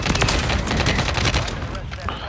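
Rapid, loud .50 cal gunfire in a Call of Duty match, a dense stream of heavy shots close up that tapers slightly toward the end.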